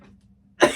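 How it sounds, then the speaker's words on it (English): A single short cough bursts out near the end, loud and close after a near-silent pause, with no talking over it. "Sorry, I had a little bit of cough."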